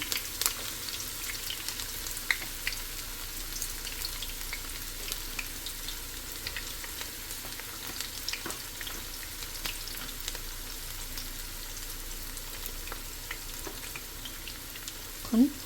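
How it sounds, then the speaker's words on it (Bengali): Onions fry in a pan, a soft steady sizzle with faint crackles and a few light stirring clicks, fairly quiet and close, with no talking. "এখন কিছু পেঁয়াজ ছেড়ে দিব আপনাদের ভুড়ির পরিমাণ বুঝে পেঁয়াজটা দিবেন"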